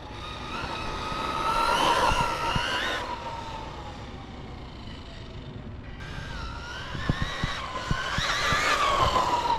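A Traxxas Mini Maxx RC truck runs at full throttle, its electric motor whining up and down in pitch in rising and falling bursts, with a brief lull partway through and sharp ticks of tires and chassis.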